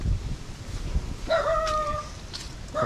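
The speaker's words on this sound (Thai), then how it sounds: "อันนี้เป็นคอกไก่ทางนี้นะ" Chickens in a farmyard coop on a cool, breezy afternoon: a rooster lets out a clear, drawn-out crow mid-clip and starts another at the end, over low clucking and rustling nearby.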